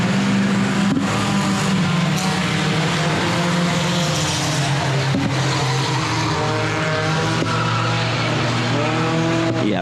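Four-cylinder race cars thundering around the oval at Lonestar Speedway in an A-main event, a loud continuous pack of engines droning and shifting pitch as they pass, with occasional tire squeal, no talk.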